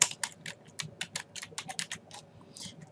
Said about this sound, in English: And we're just going to type these in.